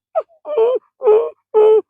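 A man imitates a small puppy whimpering and shivering in the cold, voicing four short high whines in close succession, clear and loud in a quiet room.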